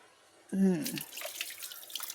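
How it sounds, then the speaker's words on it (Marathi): Water poured from a container splashes onto a hand outdoors while plants are being watered, a brief voiced sound at the start giving way to a steady, close, soft trickling spatter. "त्याला हातावर पाणी घाल"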